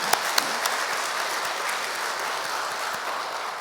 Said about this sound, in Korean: 우리 하나님께 박수합니다.